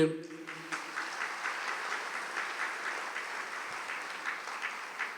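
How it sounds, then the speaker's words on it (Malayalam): A church congregation at a prayer service claps with raised hands in sustained, steady applause, following a brief voice at the start. "അത് കൈ ഉയർത്തി കൈയടിച്ചേ"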